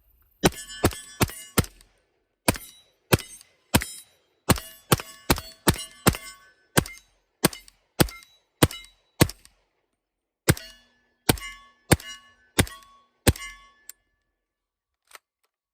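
A suppressed .300 BLK Witt Machine & Tool Dirty 30 SBR firing subsonic rounds: a long string of sharp metallic clanging shots in an irregular rhythm, each ringing briefly, close and loud with silence between and no talk.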